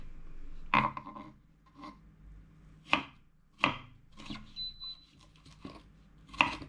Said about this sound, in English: Slice the ginger like this right here, slice it to thin slices.